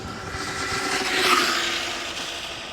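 An RC car with a gyro runs on a 4S battery at full throttle. Its high motor whine builds to a peak as it passes close by, then fades away.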